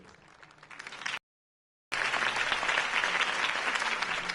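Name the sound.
crowd applause after campaign speech, from Batman Telltale video game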